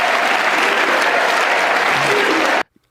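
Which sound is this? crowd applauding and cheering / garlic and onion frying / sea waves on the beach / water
crowd applauding and cheering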